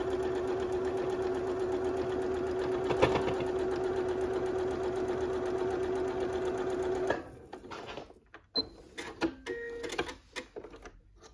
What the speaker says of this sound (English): I'm just going to be working all the way down the line, taking a straight machine stitch all the way down